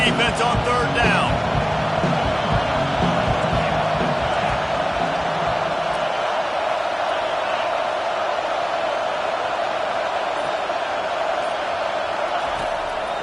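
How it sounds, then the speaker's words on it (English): Football stadium crowd roaring behind the defense on a third down, a dense sustained wall of cheering, with a commentator talking over it at the start. "Decibels rising as the crowd gets behind this defense on third down."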